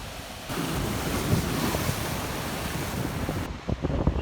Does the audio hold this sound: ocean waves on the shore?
yes